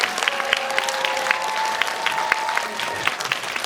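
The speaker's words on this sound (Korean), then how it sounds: "저희 같이 함께 박수 치면서 이 자리 마감하도록 하겠습니다" Audience applause closing a Korean film GV (guest visit) event for 'The King's Warden', a steady dense clapping wash with a faint sustained tone running under it, no talk.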